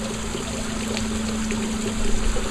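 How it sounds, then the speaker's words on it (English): A plant is watered from a container, a steady close stream of trickling water with a low hum running beneath it, growing slightly louder and splashier near the end, with no talk. "we are still watering"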